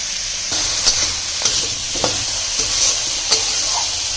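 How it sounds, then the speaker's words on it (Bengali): Vegetables with potato, carrot and egg frying in a pan: a constant loud hiss of oil with a handful of brief stirring knocks and scrapes spread through it. "তো সবজিটা ভাজা ভাজা হয়ে গেছে"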